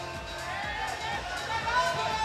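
Crowd noise at a powerlifting meet, the SBD British Open Classic: a steady, fairly quiet murmur of spectators with faint cheering and babble running throughout, with no clear peaks.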